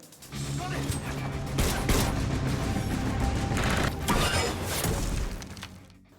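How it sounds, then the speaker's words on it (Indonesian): Bursts of rapid gunfire in a shootout with guard robots, mixed with mechanical clanks and shattering crashes, loud and dense, rising and fading over several seconds. "terjadilah baku tembak antar kelompok Max dengan robot-robot penjaga milik si John."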